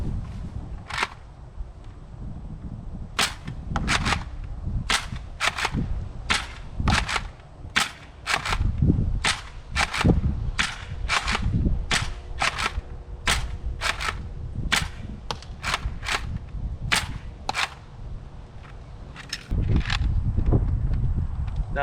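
An X-Shot Pro Series Longshot toy blaster slam fires darts in a rapid run of sharp, close cracks, roughly twenty shots spread over about twenty seconds with irregular spacing.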